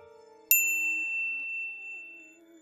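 A sharp bright notification bell ding strikes once, ringing with clear sustained overtones that slowly fade over a quiet background hum.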